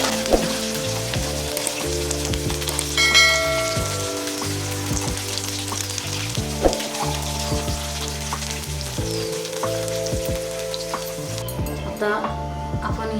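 Thinly sliced garnish for an idli chaat fries in oil with a continuous, close crackling sizzle and occasional stirring, under low background music.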